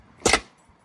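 Plastic retaining clips on a Jeep JL/JT American Modified shark grille popping loose as the grille is pulled straight out, two quick close snaps in rapid succession, alone and fairly loud.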